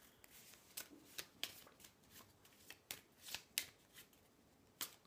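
Oracle cards are drawn and handled from a deck, giving a series of quiet, crisp card flicks and slides at an irregular pace, close to the listener.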